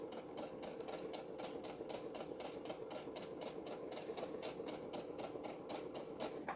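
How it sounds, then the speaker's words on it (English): A sewing machine runs steadily while back stitching a tote bag, its rapid, even needle clatter and motor hum continuing close up and alone throughout. "So it will automatically back stitch for me."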